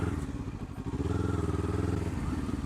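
Two motorcycles pass close by, a 701 and a big cruiser-style hog, their engines giving a throbbing, pulsing rumble that grows steadier as they go by.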